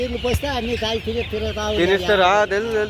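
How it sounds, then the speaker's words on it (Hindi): Several hens cluck continuously on a farm with Chinese, desi and Sonali breeds, a near, busy run of short calls, with people talking over them. "मुर्गियाँ है, आपको चीनी मुर्गी है, देसी है, सोनाली है"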